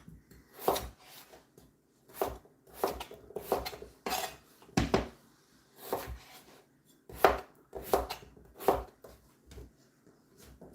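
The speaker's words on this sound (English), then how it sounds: "let's get these potatoes cut" Potatoes being cut on a board at home, knife striking in short irregular bursts of close, crisp chops with brief pauses between runs.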